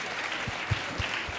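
Audience at a pharmacy academy conference applauds, a continuous wash of many hands clapping at moderate distance, with a few low thumps beneath.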